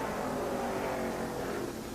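Stock cars racing through the closing laps at Daytona in 1969, a steady blended engine roar from the pack, fairly distant and constant with no voices.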